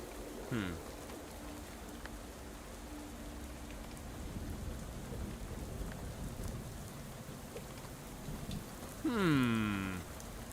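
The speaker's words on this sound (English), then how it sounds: "I feel like the rain is definitely getting heavier." Heavy rain falls steadily in the game Shadows Over Loathing, a dense constant wash with a low rumble, broken by two short sweeping tonal sounds near the start and end, and no talk.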